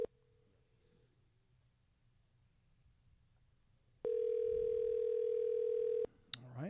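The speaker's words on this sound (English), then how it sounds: "we're making a call. We are calling Christopher" A phone call's ringing tone: a brief steady beep, a pause, then a long loud steady tone lasting about two seconds, heard alongside faint talk.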